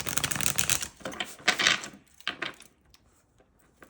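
Tarot cards riffle and slap together in quick bursts, a close, crisp shuffling that fades into quiet.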